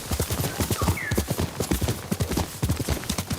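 Horse hooves clip-clop steadily at a walking-to-trotting pace in the game Ghost of Tsushima, close and loud, with a brief whinny-like tone mixed in among the rhythmic strikes.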